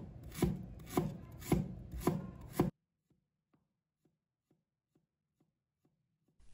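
A knife slices ginger on a cutting board in about five crisp, evenly spaced chops, followed by several faint ticks and near silence.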